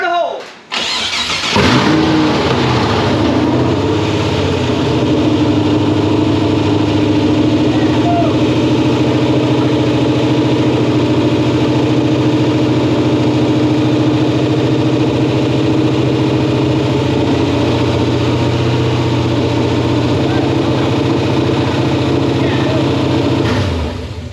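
An LS-swapped car engine fires up with a sharp burst and settles into a loud, steady, high idle that drones on for over twenty seconds, close by, with people talking now and then over it.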